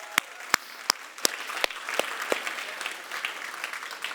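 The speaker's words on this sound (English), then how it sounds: "Give yourself a round of applause." An audience at a business talk on partnerships gives a round of applause, opening with a few sharp separate claps that quickly thicken into a steady patter of many hands.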